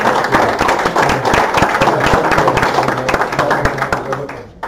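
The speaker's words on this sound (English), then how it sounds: "And let's give them a round of applause." An audience at a board meeting gives a round of applause, dense and continuous clapping with some voices mixed in, fairly loud and fading slightly toward the end.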